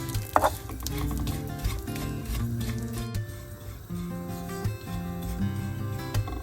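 Grated coconut roasting in ghee in a pan, with soft sizzling and light scraping of stirring under a steady background of music.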